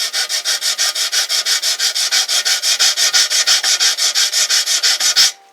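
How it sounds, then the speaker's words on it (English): Balsa wood being sanded by hand in a scale model workshop: about thirty rapid, even back-and-forth rasping strokes, close and loud, in a steady rhythm before stopping, with no talk. "And I'll sand this side off a little bit."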